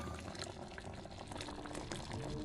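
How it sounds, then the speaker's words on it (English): A witch's liquid concoction bubbles and is stirred, giving a dense, constant bubbling with many small pops and gurgles that stays close and steady throughout, with no voices. "she stopped stirring her bubbling liquid"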